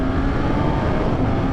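A Suzuki Katana 1000 motorcycle engine roars under acceleration, a loud, rough, steady drone close to the listener with a gritty throbbing texture and no talk.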